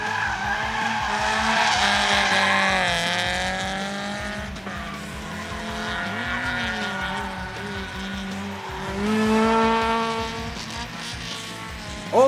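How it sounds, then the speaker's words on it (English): BMW race car sliding and spinning on a twisty circuit, its tires squealing in long wavering screeches over a loud, close engine that rises and falls through the slide. "Ryan Wood in the BMW spinning on this twisty section of the track"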